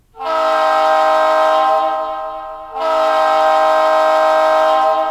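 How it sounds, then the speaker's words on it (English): Long blast of a locomotive air horn sounded from the Blue Nami sound system app, a loud, close, chord-like blare that dips briefly before swelling again and holding to the end. "so we're going to do a long air horn"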